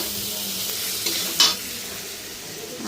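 Potatoes and pointed gourd frying in a pan, a continuous close sizzle with a brief louder scrape of stirring around the middle.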